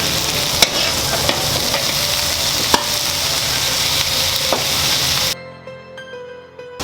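Carrots and onions stir-fried together in a pan for pancit, a steady hiss of frying with scraping stirs and a few sharp clinks of the utensil against the pan, until the sizzle drops away abruptly near the end.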